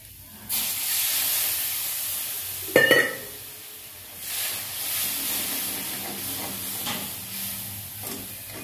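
Water poured into spices frying in a pan sets off a sudden loud hissing burst of steam and sizzle, which then settles into a steady bubbling hiss with a brief clatter partway through.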